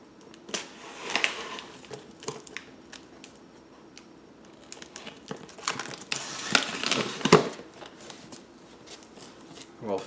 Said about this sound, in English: We'll get this tape cut through